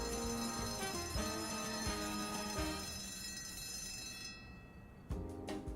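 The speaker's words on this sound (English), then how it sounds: "I do wish I could turn off that bell sound effect, or change it, or turn it down." A chiming bell effect from the video game News Tower rings in repeated sharp strikes over a sustained tonal bed, then fades before one more strike near the end.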